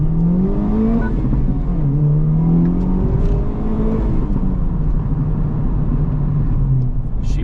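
A Honda Civic Type R FL5 on 93 octane fuel accelerates hard, its engine note rising steadily through the revs with a loud, continuous whirring rumble from inside the car.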